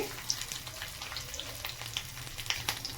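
Mustard seeds, cumin, green chillies and karela hitting hot oil for a tempering, a steady close sizzle with scattered tiny pops and crackles throughout.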